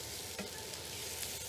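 Mushrooms, peppers and onions frying in marinade in a pan, a steady dense sizzle with a scrape or two of stirring, close and continuous, no voices.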